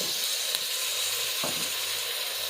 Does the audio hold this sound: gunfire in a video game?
no